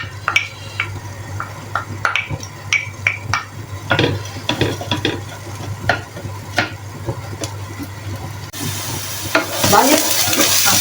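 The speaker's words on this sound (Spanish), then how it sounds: "Acá tenemos mi cebolla que está friendo, vamos a mezclar un poquitito." Onion sizzling in a pan as a spoon stirs it, scraping and clinking against the metal under a steady frying hiss that swells louder near the end.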